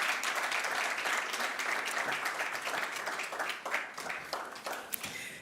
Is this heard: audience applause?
yes